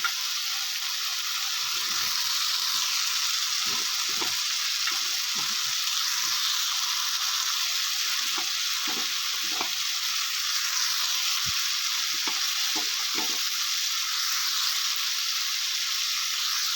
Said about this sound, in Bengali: মাশরুমগুলো দিয়ে এবার আমি এই সব কিছুর সাথে ভালো করে দু মিনিট মতো কষিয়ে নেব